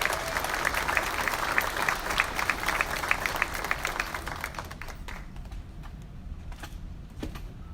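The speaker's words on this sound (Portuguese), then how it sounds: "a gente conhecer a cineasta Thaís Scabi, uma salva de palmas." Applause at an adult education (EJA) council meeting, brisk clapping from a modest group that is loud at first, then thins to a few scattered claps and fades.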